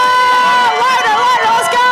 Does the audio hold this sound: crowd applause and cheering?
yes